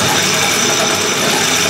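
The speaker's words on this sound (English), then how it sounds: "So just hold the hand crank and move it like this." A hand-crank generator turned steadily by hand gives a continuous whirring, ratcheting gear noise, close and loud with no pauses.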